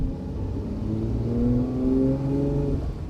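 A 1969 Ferrari 365 GTC engine pulls up through first and second gear, revs rising smoothly then dropping at the shift and climbing again, close and clear with no talk.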